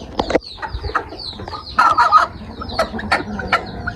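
Chickens in a backyard coop area cluck and squawk in short, overlapping bursts, close and fairly loud, with busy bird activity throughout.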